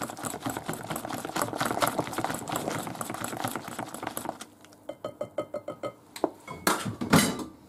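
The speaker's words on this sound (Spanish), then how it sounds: "Y batimos otra vez, claro, para la sal." Eggs with salt are beaten in a bowl for a Spanish potato omelette, a rapid, steady clatter of whisking against the bowl that continues loudly, then breaks into separate sharper taps near the end.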